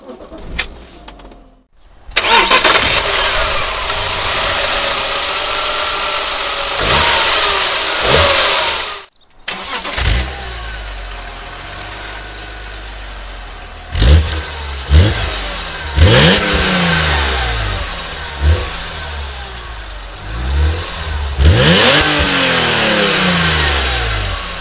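A BMW Z3 M Coupe engine with stock exhaust revs hard and close, repeated rising vrooms with brief drops between, then settles toward idle before another series of sharp blips.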